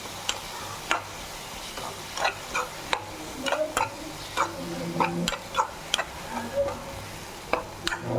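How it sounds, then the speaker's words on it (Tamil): Prawn sukka masala is sautéed in a pan, with irregular close spatula scrapes and clacks against the metal over a soft, continuous sizzle. "இப்போ இதை நல்லா வதக்கிக்கலாம்."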